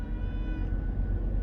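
A cat inside a truck cab gives a soft, drawn-out meow early on, fairly quiet beneath the heavy low rumble of the running engine.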